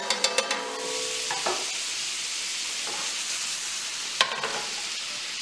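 Sliced onions sizzling in a pan with pork drippings left from cooking tenderloin, a steady frying hiss throughout with a few sharp clinks and scrapes of stirring utensils.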